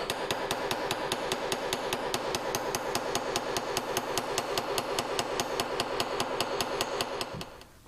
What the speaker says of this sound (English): you want to flip this over and forge from the other side as well.